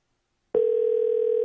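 An outgoing telephone call rings back with a single steady electronic tone that starts abruptly after half a second of silence and holds, close and clear.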